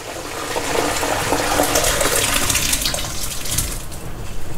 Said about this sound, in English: we're gonna strain off all the water and oil